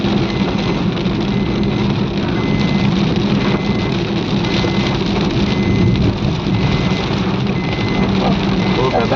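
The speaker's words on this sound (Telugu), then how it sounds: "వర్షం అండి" Steady, dense rain hisses without pause, with a low rumble underneath, like a heavy downpour heard outdoors beside a highway.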